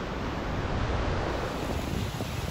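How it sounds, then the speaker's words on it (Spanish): Aggressive ocean waves rolling onto a beach at a fishing spot, a steady loud wash of surf mixed with gusting wind noise on the microphone, with no voices. "Justo cuando las olas están poniendo más agresivas"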